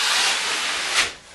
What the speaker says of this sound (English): run your knife across the ceiling or on the wall, like that.